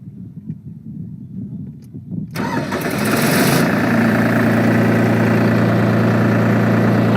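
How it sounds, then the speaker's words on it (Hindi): A tractor engine with hydraulics cranks over and catches after a couple of seconds, then settles into a loud, steady diesel idle close by. "आइए ड्राइवर जी थोड़ा ट्रैक्टर चालू कीजिए"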